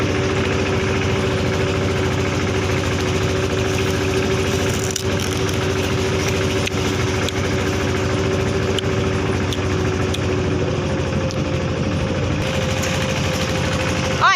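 A small vehicle engine hums loudly and steadily at close range while it rides through a sugarcane field, an unbroken mid-pitched drone with a few faint rustles and knocks.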